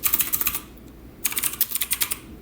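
Close, crisp clatter of fingers typing on a computer keyboard, two quick bursts of rapid keystrokes separated by a short pause.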